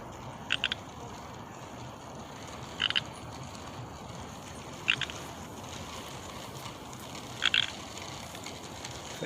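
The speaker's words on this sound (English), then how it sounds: "I hear a frog." A frog croaks four times beside the Sammamish River Trail, each call a short doubled burst spaced a couple of seconds apart, moderately near over a steady hiss of outdoor ambience.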